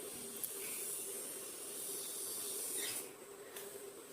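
Hilsa fish frying in hot oil until browned, a steady sizzling hiss that runs close and fairly loud through the whole stretch, with no talking.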